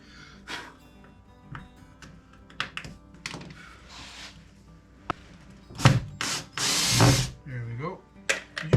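Power drill backing screws out of a 16-foot workbench, whirring in short bursts mixed with knocks and clunks from handling the bench and tools, close and fairly loud.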